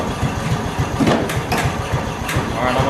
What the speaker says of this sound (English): let's go ahead and fire her up